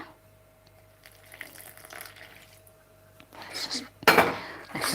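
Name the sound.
water being added while making bread dough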